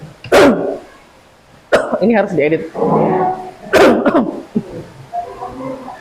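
Several sharp, loud coughs burst out close by, interspersed with short stretches of speech.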